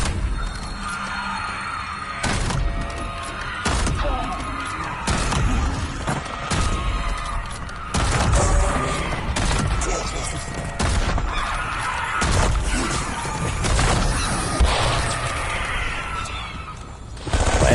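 Repeated bursts of automated sentry turret gunfire in the Black Ops 7 video game, sharp clustered volleys and impacts cutting through steady game noise at close range, recurring irregularly.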